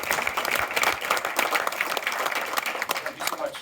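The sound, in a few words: audience applause for speaker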